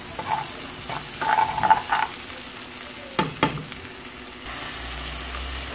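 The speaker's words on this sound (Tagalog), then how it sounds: "Sunod na ang sibuyas. Ayan. Gisa-gisa lang po." Onions sizzle and crackle in a hot pan while being stirred, with soft scraping strokes and a couple of sharper clacks over a steady frying hiss, no voices.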